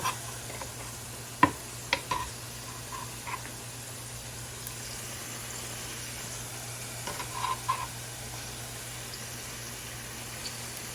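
Pre-fried fish pieces go one by one into a sizzling masala of spices, onion and garlic, a low steady simmering hiss with a few sharp clinks and soft splutters, no talk.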